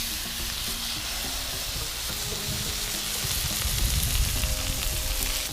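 A sirloin steak sizzles loudly and steadily on a Blackstone griddle, a constant crackling hiss with no voices, swelling slightly near the end.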